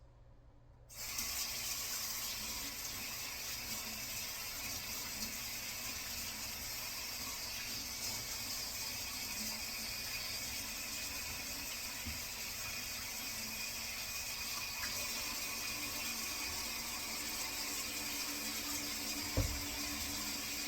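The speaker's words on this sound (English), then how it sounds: "I need to wash my hands so I can get more seasonings" Tap water runs steadily into a kitchen sink for hand washing, a continuous close hiss that starts abruptly after a second of quiet, with a faint clunk near the end.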